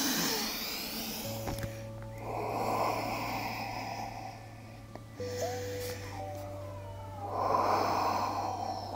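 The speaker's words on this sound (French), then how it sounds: "Encore deux respirations Ujjayi." Slow Ujjayi yoga breaths, a soft hissing throat-constricted inhale and exhale close to the listener, with a steady low hum in the background and no talking.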